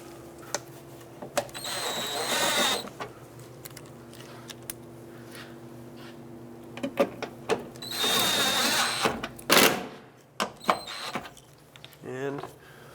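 Electric tailgate window regulator motor on a 2003-09 Toyota 4Runner running in two bursts of a few seconds each, a close buzzing whir with clicks and rattles between, with someone talking in between.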